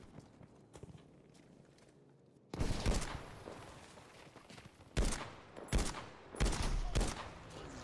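Gunfire in the World War II shooter Battlefield V: after a quiet stretch, sharp close bursts of rifle and automatic fire break out, with several loud cracks and rattling volleys in quick succession.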